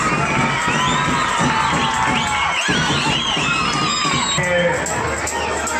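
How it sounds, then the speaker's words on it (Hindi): A large crowd at an inauguration ceremony for a new building and playground, loudly cheering, whooping and clapping in a dense, sustained roar that fills the space, with shouting children audible throughout. "जोरदार ताली स्वागत कीजिएगा"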